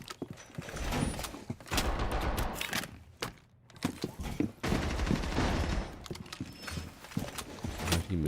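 Shotgun fire in Rainbow Six Siege, heavy bursts of blasts and rapid shots that come in loud clusters, with a brief lull midway, and no talk on top.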